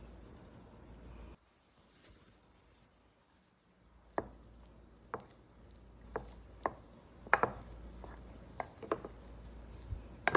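Ingredients tossed together with teriyaki sauce in a baking dish for a soul food dinner, heard as a series of sharp utensil knocks and scrapes against the dish at an irregular pace, after a few quiet seconds.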